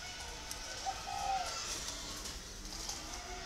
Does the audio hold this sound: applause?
no